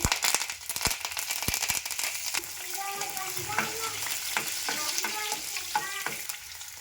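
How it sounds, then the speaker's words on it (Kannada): Mustard seeds, ajwain and curry leaves drop into hot oil in a pan that already holds roasting peanuts, giving a crackling sizzle with sharp pops and stirring clinks, moderately quiet. "ಈಗ ಇದಕ್ಕೆ ಸ್ವಲ್ಪ ಸಾಸಿವಿ ಹಾಕೋರಿ ಸ್ವಲ್ಪ ಅಜ್ವಾನ್ ಹಾಕೋರಿ ಕರಿಬೇವು ಹಾಕ್ರಿ"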